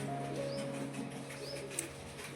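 Pigeons coo softly nearby, low steady tones with faint chirps and a light flutter over quiet background hum.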